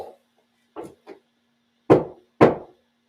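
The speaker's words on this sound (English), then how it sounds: "If I knock on this wall," Knocks on a hotel room wall in a quiet room: a couple of soft taps, then two loud, sharp raps about half a second apart, each standing alone against silence.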